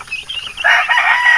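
A crowd of week-old chicks peeping together, a dense high-pitched chorus that swells louder midway through and stays close and continuous.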